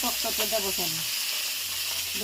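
Fish frying in a pan makes a steady, close hiss of sizzling oil throughout, while a voice speaks briefly over it at the start and again near the end.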